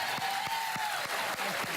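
Studio audience applause on a late-night talk show, a steady wash of clapping that fills the whole moment at a moderate level, with a voice faintly underneath.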